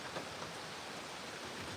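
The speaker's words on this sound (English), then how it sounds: "the rain comes down from the roof and fills the water butt here" Rain running off a roof into a garden water butt makes a brief, faint, steady hiss of falling water with no distinct drops or voices.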